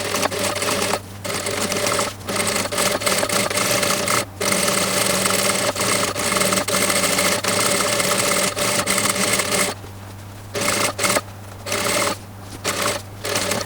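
A sewing machine stitching a seam around the brim of a sun hat, with a steady, loud mechanical whir that runs for long stretches, broken by brief pauses and short stop-start bursts near the end.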